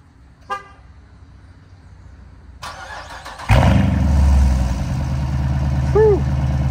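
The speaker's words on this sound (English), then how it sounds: "I could feel the exhaust from here when it popped off." A car engine rumbles and revs, then its exhaust bursts into a loud, popping roar that holds steady before settling. It is close and strong, with a short horn-like tone near the end.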